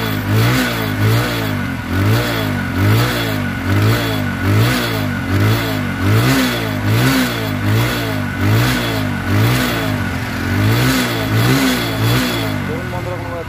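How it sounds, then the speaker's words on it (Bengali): A TVS Apache RTR 160 motorcycle engine running steadily close by, its throttle blipped in a regular rising-and-falling rhythm of repeated revs throughout, loud and alone with no talk over it. "বন্ধুরা দেখুন গাড়িটির স্টার্ট সাউন্ড,"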